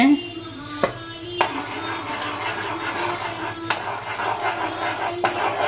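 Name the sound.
stirring semolina into boiling water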